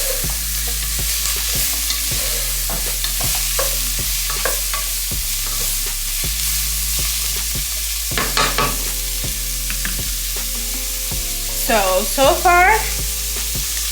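Onions fry in a pan for jerk shrimp rasta pasta and get stirred, giving a constant dense sizzle with intermittent scraping strokes, close up, under a steady background hum and a brief spoken word.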